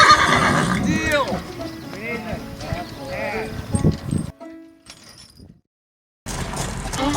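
Horses neigh and whinny repeatedly while being harnessed into teams, with hoof clops and faint harness clinks beneath people talking, then a brief quiet gap before loud activity resumes.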